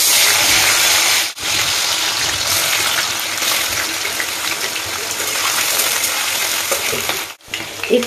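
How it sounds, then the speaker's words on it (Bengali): Paneer fries in hot oil in a kadai, giving a loud, continuous hissing sizzle that briefly cuts out twice, with a voice faintly under it. "তাহলে চলো আগে পনিরটা ভেজে নিচ্ছি"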